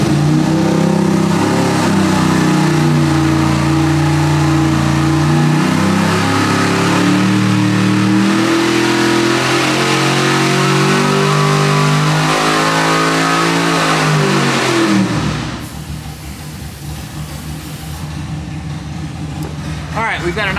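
A Smeding 632-cubic-inch big block Chevy V8 of about 1,000 hp roars on an engine dyno, climbing steadily in a loud sustained rev sweep for about fifteen seconds before cutting off abruptly to a lower idle rumble.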